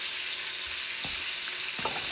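Steady broadband sizzle of turkey frying in a hot pan, with a few soft clinks and scrapes near the end.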